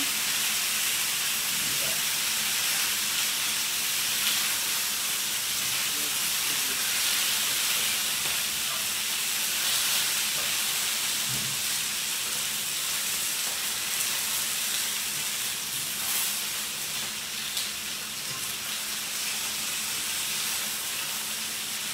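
Chicken pieces, about three-quarters cooked, sizzle steadily in a pan for a creamy Tuscan chicken dish, a continuous loud hiss of frying fat with faint crackles and no talking.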